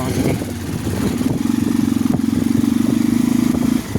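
A motorcycle engine sputters to life and settles into a rapid, rhythmic idle, close by, with voices audible in the background.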